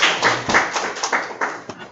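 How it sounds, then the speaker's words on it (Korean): A short burst of audience applause at a mock-exam review session, a quick run of sharp claps close by, fading out after about two seconds. "박수 한번."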